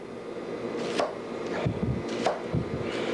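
A knife chops through an onion on a cutting board in several distinct, close knocks at an uneven rhythm, with no talk.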